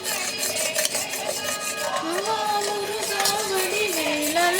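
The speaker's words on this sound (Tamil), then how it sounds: "நீ கலக்கு அதித்தி, வாங்கி கலக்கு." Continuous scraping and clinking of a utensil stirring egg poriyal with ground cumin and pepper in a bowl, steady throughout, with faint tonal voices in the background.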